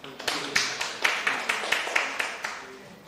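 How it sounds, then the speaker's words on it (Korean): A small conference audience at a welfare and public finance session gives a sparse, rhythmic round of clapping, individual claps distinct and fairly soft, with a voice faintly present. "박수 보내드리겠습니다"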